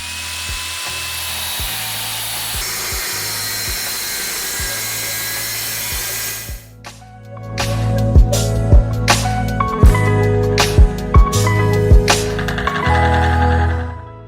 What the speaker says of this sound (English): Now it's time to chop the frame. Make sure the grinder is straight.